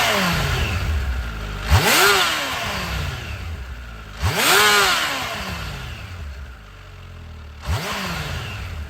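A 2022 Kawasaki H2 SX supercharged touring motorcycle revs hard three times, each rising engine surge ending in a whoosh and chirp from the wastegate, loud and close with no talking.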